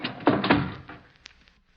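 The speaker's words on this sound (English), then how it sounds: "Hurry, help me close the door before the archway falls on us." A heavy old door in a stone archway being pushed shut, a couple of dull scraping thuds followed by a fainter knock as it settles.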